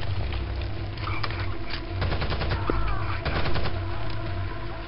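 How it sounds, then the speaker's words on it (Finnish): Gunfire in the game Rainbow Six Vegas 2, rapid bursts and single shots crackling at close range over a rumbling background, dense and loud across the whole stretch, no clear talk. "Mistä tää laukaus tuli?"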